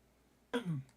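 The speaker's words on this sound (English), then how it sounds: "I coughed." One short, close cough or throat-clear from a player at a Pathfinder tabletop game, a sudden rough burst that fades quickly against a quiet background.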